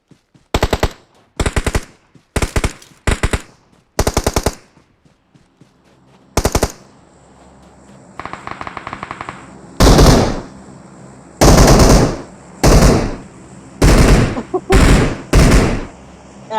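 Gunfire in the mobile shooter BGMI: several short bursts of rapid automatic shots, a quieter stretch of faint rattling, then heavier, louder bursts close by, separated by brief pauses.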